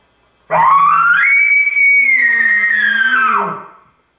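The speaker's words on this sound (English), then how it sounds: "the next one we're going to go to is the scream or challenge" A loud, high whistling elk scream challenge call rising sharply, holding a long shrill note for about three seconds, then sliding down and fading; no voices.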